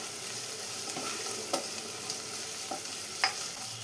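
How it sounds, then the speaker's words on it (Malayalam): Onions sauté in a pan with green chillies and curry leaves, a soft low sizzle with a few faint scraping stirs and a sharp clink near the end, quiet and without talk. "സവാളയെല്ലാം വഴറ്റിയെടുത്തിട്ടുണ്ട്"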